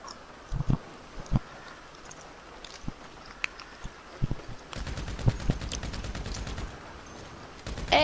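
Scattered gunshots in a parkour video game, isolated sharp cracks early on, then a rapid automatic burst of fire in the latter half.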